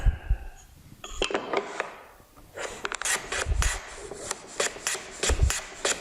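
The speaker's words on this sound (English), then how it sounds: "I'll also demonstrate that with the foreplane" A fore plane trims the edge of a board on a wooden shooting board, giving a series of dry, rasping strokes in a steady back-and-forth rhythm, close and fairly loud, with light knocks of the plane between passes.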